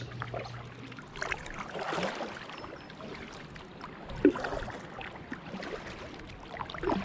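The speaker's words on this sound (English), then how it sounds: "we're just having a little paddle down the Ouse" An inflatable kayak is paddled on the River Ouse in York, giving soft, irregular water splashes and trickles from the paddle strokes, fairly quiet, with one sharper knock midway.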